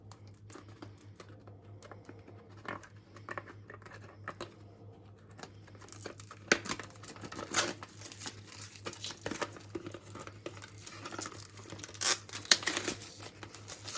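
Cellophane wrapping being crinkled and torn off an Adidas For Women Fruity Rhythm eau de toilette box, giving faint, close crackles and rustles that grow busier and louder toward the end, with no talking.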